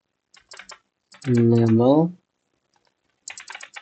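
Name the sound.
typing on a computer keyboard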